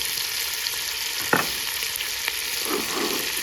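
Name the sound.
onions and carrots frying in a pan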